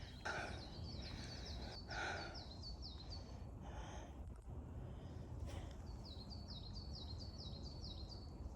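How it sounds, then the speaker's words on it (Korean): Faint bird chirps in short repeated phrases over steady outdoor background noise on a hiking trail up Geomdansan mountain, with soft breathy sounds nearby and no clear speech. "새소리 너무 좋은데?"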